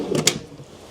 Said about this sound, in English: And then a bedside drawer.